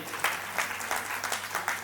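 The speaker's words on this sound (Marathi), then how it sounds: "तुळसकर साहेब यांच्यासाठी जोरदार टाळ्या झाल्या पाहिजेत." An audience claps in sustained applause at a celebration event, a steady patter of many hands with rhythmic swells, fairly quiet and without speech.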